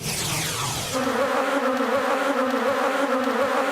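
Bees buzz steadily in a close, dense drone that holds a constant pitch, with a sweeping whine at the start.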